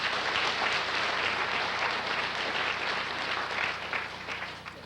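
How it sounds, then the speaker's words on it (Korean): A church congregation claps steadily in welcome of a seminary student, dense applause filling the room that slowly tapers off toward the end. "우리 환영하는 박수 하십니다"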